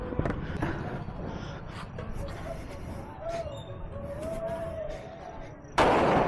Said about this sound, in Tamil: ஐயோ வெடிய போட்டுறாங்களே காது கடியில.